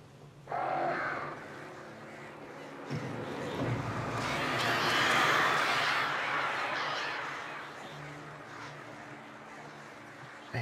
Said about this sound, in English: I hate these pigeons, really.